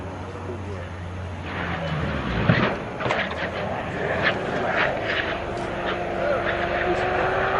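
Airplane coming in to land without its landing gear, a sustained engine roar under excited voices, with a sharp jolt partway through and the noise building toward the end.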